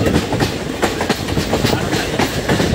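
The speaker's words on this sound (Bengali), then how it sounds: "পাহাড়ের ভিতর দিয়ে ট্রেন দৌড়েছে" A train runs through tunnels in a mountainous area, with a loud continuous rumble and rhythmic clickety-clack of wheels over rail joints, close and steady with no voices.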